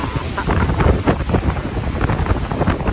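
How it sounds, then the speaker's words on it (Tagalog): Strong wind gusts buffet the microphone at a windy lake shore during trout fishing, with waves washing steadily against the bank; a continuous, roaring rush with no talk. "Sobrang lakas ng alon."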